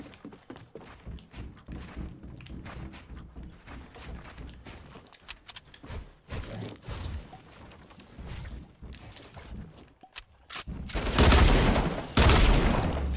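Pistol gunfire in the video game Fortnite: a run of sharp, rapid shots and thuds amid busy game effects, building to loud, dense bursts near the end.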